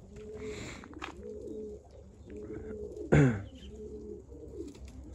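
Pigeons coo in repeated soft, throaty phrases close by, with a sharp bang or flutter partway through and a low background rumble.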